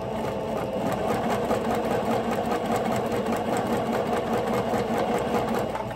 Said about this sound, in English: we're gonna go ahead and sew this all together